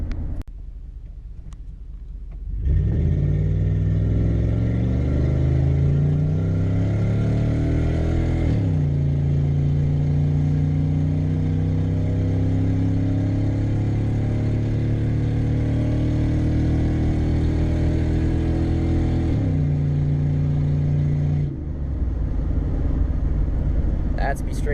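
A 2017 Ford Mustang GT V8 fitted with a Corsa cat-back exhaust starts up and revs, loud and close, with several throttle blips rising and falling over a steady deep idle rumble before shutting off.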